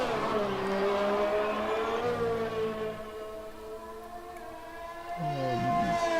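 In the F1 2020 video game, a high-pitched F1 race car engine whines and shifts pitch steadily, with a rising rev near the end. A commentator talks over it.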